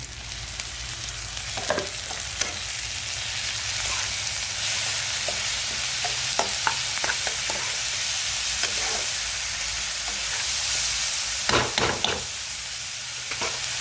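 Onions fry in a pan with ginger-garlic paste for a raw banana cutlet filling, giving a steady sizzle and hiss punctuated by occasional clinks and scrapes of a stirring spoon, with no talking.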